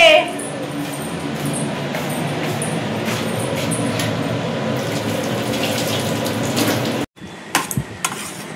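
Running tap water gushes steadily into a kitchen sink while a small bottle is rinsed, with faint clinks of glass and dishes, then the flow stops and a few louder knocks and clatters follow; someone talks over the water.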